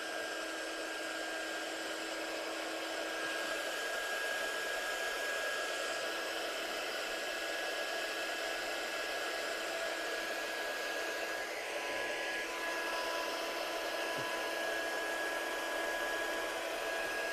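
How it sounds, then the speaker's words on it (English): A heat gun blows hot air over embossing powder on a handmade card, a constant rushing hiss with a steady motor whine that holds evenly for the whole stretch, close and unbroken, with no talking. "I'm just going to bring my heat gun in now. So I'm just going to get this embossed."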